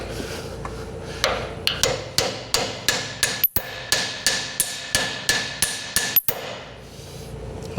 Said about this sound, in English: I think if I push this pin in, because it springs back, and pound on the yoke, it should maybe start coming out.